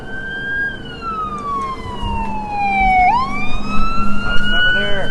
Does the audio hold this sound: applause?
no